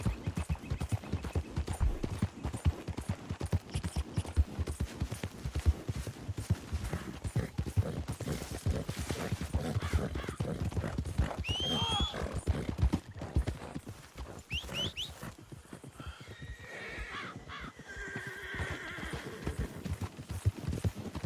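Horse hooves gallop in the Red Dead video game, a dense, fast, steady clip-clop running the whole time with brief neighs and whinnies near the middle and end, loud and close.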